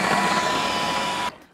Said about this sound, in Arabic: هنفضل نطحن فيها لحد ما تبقى اللون ده والشكل ده